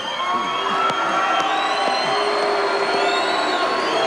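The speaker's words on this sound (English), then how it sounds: "A few boos up here across from the Sydney crowd" A dense Sydney rugby league crowd at the 1999 NRL grand final, booing and shouting in a loud, continuous roar that holds steady without a break.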